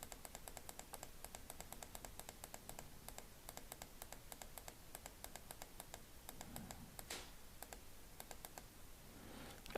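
Rapid computer keyboard and mouse clicking while a logo is edited in CorelDraw, a steady stream of light, close taps and clicks with no talking.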